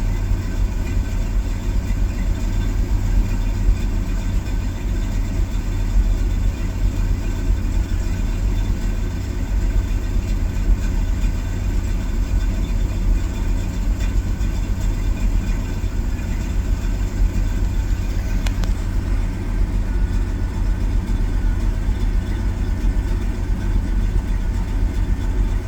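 A car engine idles continuously for about twenty-five seconds while it hunts for a steady idle and may be misfiring. It gives a steady, low, rumbling hum close by, with no talking.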